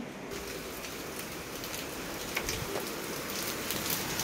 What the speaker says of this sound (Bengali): এই দেখুন বাইরে আবার বৃষ্টি শুরু হয়ে গেছে